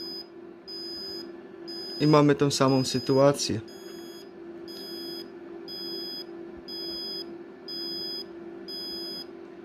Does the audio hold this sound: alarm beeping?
yes